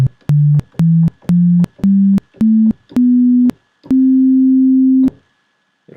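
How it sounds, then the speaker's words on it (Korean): A Voltage Modular synthesizer tone is gated on and off by MIDI keyboard keys, giving a series of clean, loud steady beeps of rising pitch, short at first and then longer held notes, with silence between. "누르고 있는 동안 소리가 나고 건반에서 손을 떼면 소리가 안 나게 되는 이런 형태가 만들어지게 되겠죠"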